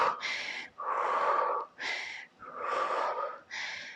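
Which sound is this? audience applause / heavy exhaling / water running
heavy exhaling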